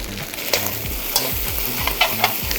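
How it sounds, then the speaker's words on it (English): Char kway teow noodles with spring onion and bean shoots stir-fried in a wok, a steady loud sizzle broken by repeated scraping and tossing strokes of the spatula at an irregular rhythm, close up, with no voices. "this is the kind of wok cooking that makes me so happy"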